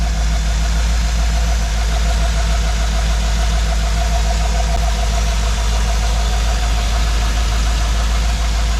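A 1959 Chevrolet Apache truck engine idles steadily and close, a loud even rumble with a smooth repeating pulse and no gaps throughout.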